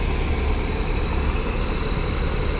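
Heavy trucks idle at night in the Bakauheni ferry port queue, a steady low diesel rumble with constant broadband engine noise and no voices.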